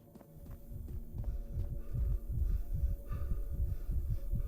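A heartbeat in Entity: The Black Day horror game throbs in steady, repeating low pulses over a droning hum. It grows slightly louder and heavier as it continues, with no voices.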